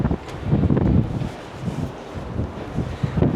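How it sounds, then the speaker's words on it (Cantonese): Strong wind buffets and roars across an open apartment balcony in a new high-rise flat, rushing in uneven gusts close to the microphone for a few seconds, with no voices. "哇，好大風，"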